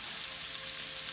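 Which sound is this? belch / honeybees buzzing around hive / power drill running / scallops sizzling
scallops sizzling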